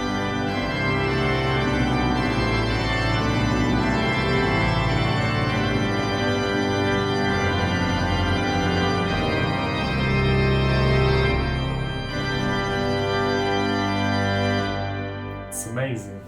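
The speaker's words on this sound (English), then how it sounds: "And then we can add the 16 foot to add some bass and the large trumpets, and then we got sound like this." Large Dutch church pipe organ at the Bovenkerk in Kampen plays full chords with a 16-foot bass stop and big trumpet reeds, loud and sustained for about twelve seconds before the chord changes and cuts off.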